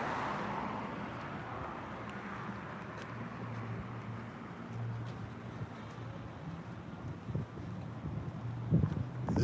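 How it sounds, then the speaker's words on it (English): A white car pulls out into the middle of a street, its engine a low steady rumble under broad traffic and wind noise, with a slight swell near the end. "This white car came out in front of me in the center of the street, and he's driving out now."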